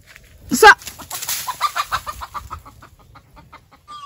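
A chicken clucks in a quick series of short calls, loud at first and then trailing off into softer clucks.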